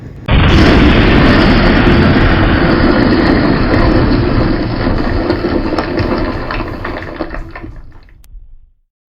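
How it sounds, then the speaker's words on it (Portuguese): Grenades go off inside a cave in a loud, sustained roaring blast that starts abruptly, rumbles for several seconds and then fades out to silence. "eu e Kevin começamos a jogar muitas granadas lá dentro. E antes que a Tinoquinha Malamé pudesse reagir, elas explodiram."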